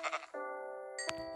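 A Minecraft sheep bleats twice, the calls close and clear, the second ending in a short sharp tick, over quiet game ambience.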